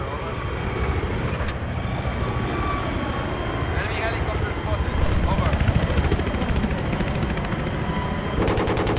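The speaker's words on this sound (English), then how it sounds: "Enemy helicopter coming in!" An attack helicopter approaches in a multiplayer war video game set on Kharg Island, its rotor drone steady beneath gunfire crackle, while players talk over it.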